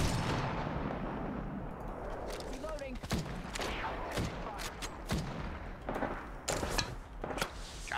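Repeated sharp gunshots crack out in irregular bursts, loud and close, over a busy background of Apex Legends game noise and distant shooting.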